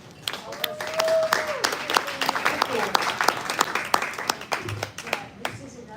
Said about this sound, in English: So give a good, big round of applause to Nancy.